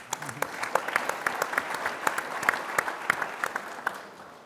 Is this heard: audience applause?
yes